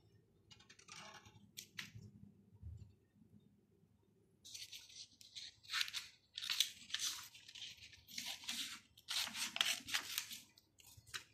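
Scissors snip through paper while eye shapes are cut out for a 3D craft face, giving a quiet, close series of irregular crisp cuts and rustles with short pauses between them.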